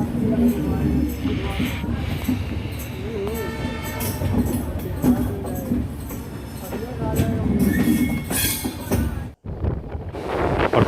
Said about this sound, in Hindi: पटना से खुलते ही पटना कोटा एक्सप्रेस रफ्तार धर ली महाराज